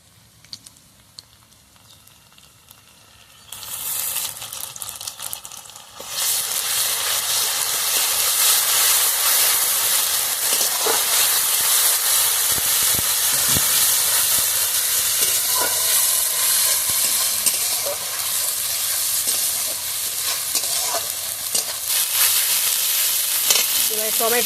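Ginger-garlic paste and spices fry in a pan with a loud, steady sizzle and hiss that jumps up after a quieter start and then holds constant, close and without talk.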